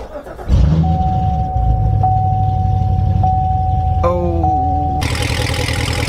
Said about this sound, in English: I'm going to start it up and see how this thing sounds.